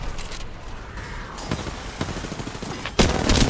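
Bursts of gunfire from the Apex Legends video game, including R-301 and Nemesis rifles, with several sharp shot clusters and a louder volley at the end over game background noise.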